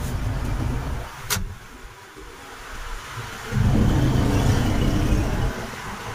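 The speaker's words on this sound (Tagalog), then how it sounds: "Tignan mo po kung kumana yung compressor." An Isuzu Crosswind idles while its aircon compressor engages, giving a low rumbling engine drone with a sharp click early on, then a louder, deeper hum that swells for a couple of seconds before easing back.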